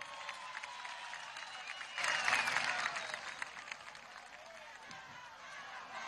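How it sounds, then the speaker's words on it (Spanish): A distant crowd at a large political march applauds and cheers, a faint, spread-out swell that rises briefly then settles into a murmur. "Vamos a darle un aplauso a los que tenían pancarta y la bajaron."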